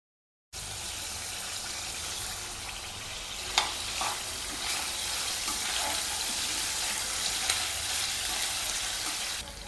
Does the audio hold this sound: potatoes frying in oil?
yes